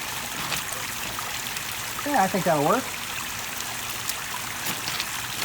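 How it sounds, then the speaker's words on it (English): Water trickles steadily in a restored concrete fountain, a continuous soft wash of splashing that runs under a brief stretch of nearby talk. "this will fill up with water, and then once that's full, it'll start cascading over the edge there and fill up the bottom basin"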